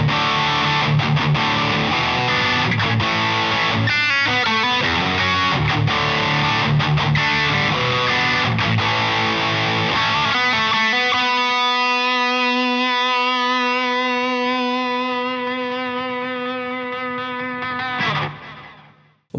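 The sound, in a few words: guitar distortion pedal, silicon clipping mode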